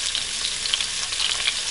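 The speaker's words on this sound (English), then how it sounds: "now we're going to add in our onions and let them saute for a minute" Onions sauté in a pot after chicken has been browned, a bright, even frying crackle with small pops, close and steady with no voices, lasting under two seconds.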